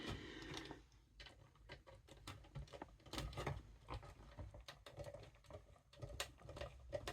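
Plastic parts of a Hachette Doctor Who Dalek model being screwed and clicked together by hand, a quiet run of small close-up clicks, scrapes and ratcheting taps scattered across the whole stretch with no talking.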